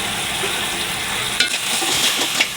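Semai frying in a pan hisses loudly as sugar syrup is poured in and stirred, a dense steady sizzle with sharp crackles and spoon scrapes near the end, close and alone.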